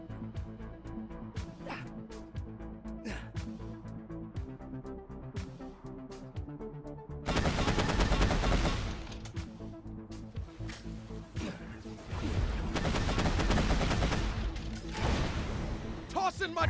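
Turret gunfire in a video game, dense roaring bursts of rapid shots over a continuous background score, loud and close, with a couple of sustained volleys.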